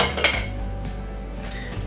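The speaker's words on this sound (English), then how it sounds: "So we're going to remove the lid." A metal lid comes off a cooking pot with a short clank and a light ringing scrape, close and clear, followed by fainter clinks.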